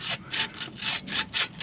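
Scrubbing rust and crud off a corroded steel heater pipe on a Mercedes-Benz W114, close rasping strokes repeating in a steady back-and-forth rhythm, about six passes.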